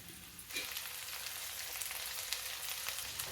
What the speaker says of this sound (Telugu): కొంచెం అల్లం వెల్లుల్లిపాయ పేస్ట్ పచ్చివాసన పోయే వరకు ఈ ఉల్లిపాయతో సహా వేయించుకుందాం